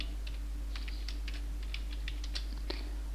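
Keys clack at an irregular pace on a computer keyboard while an SQL INSERT INTO command is typed, close and fairly quiet over a steady low hum, with no talking.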